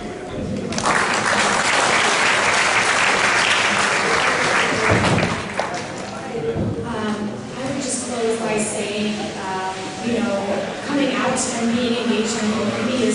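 Audience at a congressional immigration town hall meeting breaks into loud, sustained clapping that fills the room, then thins out and fades while a voice speaks over the tail end.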